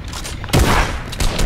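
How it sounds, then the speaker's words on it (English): A rocket launcher firing in Fortnite, a sudden loud booming blast with a rumbling tail, followed by a second softer burst of explosive gunfire, no voices heard. "I got a launcher. Are you kidding me? This actually is shooting him down."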